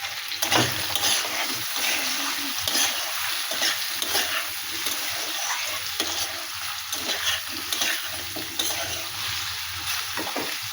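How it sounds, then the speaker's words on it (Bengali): Fish seasoned with salt and turmeric fries in hot oil for a bhangan fish curry, giving a steady, close, bright sizzle with occasional crackles and faint stirring scrapes throughout, with no talking. "এভাবে এটা ভেজে নেব, এইভাবে ভাজবো।"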